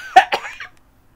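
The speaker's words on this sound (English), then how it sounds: "I got a cough" Two quick, close coughs in succession, followed by a short trailing throat sound and then silence.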